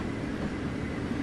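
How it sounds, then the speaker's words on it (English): A passing train near a railway switching area, heard as a steady low rumble with dense rolling texture, continuous and moderately loud with no voices. "Sorry, I was distracted by the train."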